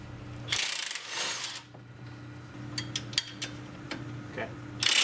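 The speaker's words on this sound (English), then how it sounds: "next up we're going to remove these two bolts on either side of the motor mount tube" Motor mount tube bolts being removed on a Polaris RZR 1000 or Turbo, with ratcheting wrench clicks, metallic clinks and rattles in short bursts, close and fairly quiet, no talking.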